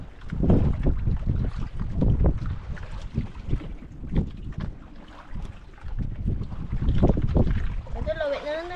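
Gusty wind roars and buffets the microphone on the water from a small boat, rising and falling in loud surges, with voices talking at the end.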